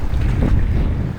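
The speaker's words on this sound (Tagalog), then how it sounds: "Grabeng alon. Grabe yung hampas dito sa kabila." Heavy surf pounding against rocks along a rough shoreline, a dense continuous roar of water with strong low-end rumble and wind buffeting the microphone, loud and close throughout.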